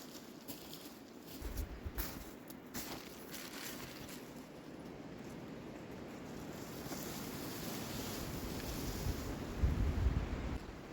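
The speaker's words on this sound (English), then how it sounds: "It's very windy." Wind blows steadily and fairly faint at a campsite, with low buffeting gusts rumbling against the microphone and no talking.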